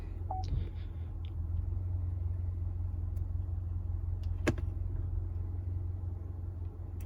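A 2018 Cadillac ATS 2.0 turbo with an 8-speed transmission idles on a lift while the gears are cycled, a steady low rumble with a few faint clicks and a brief beep, no talking.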